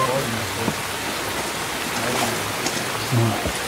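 Rain falls steadily outdoors as a broad, continuous hiss, with people talking faintly under it.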